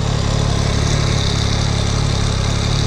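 A new XRacing motorcycle sits idling, its exhaust giving a steady, loud low rumble with an even pulsing throb close by and no voices.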